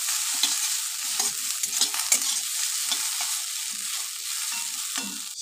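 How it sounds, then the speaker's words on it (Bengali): A spoon scrapes and stirs spiced food in a frying pan, with irregular clacking strokes over a steady background sizzle, close and without any voices. "ভালো করে নেড়ে চেড়ে নেব"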